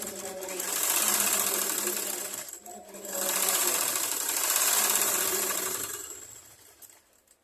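A sewing machine stitches a blouse in two loud, steady runs of rapid mechanical whirring, broken by a short pause and trailing off at the end.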